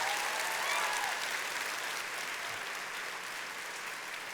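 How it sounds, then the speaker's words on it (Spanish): A church congregation claps during a Sunday worship service, a dense, sustained wash of applause from a large crowd that slowly tapers off without voices. "si vas a aplaudir tienes que hacerlo con más ganas"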